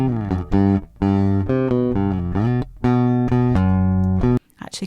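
An electric guitar plays a short riff of clipped, palm-muted low notes in a choppy rhythm with brief gaps, its low end tightened by EQ, heard close and loud with no voices.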